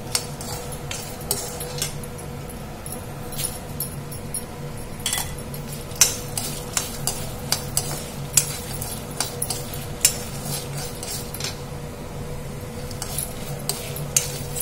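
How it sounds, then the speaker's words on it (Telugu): Urad dal and coriander seeds fry in a pan for munagaaku kaaram podi, with a steady low sizzle and scattered light clinks and scrapes of a spoon stirring against the pan, no voices. "మినపప్పు ధనియాలు అయితే మంచిగా ఫ్రై అవుతున్నాయి కదా"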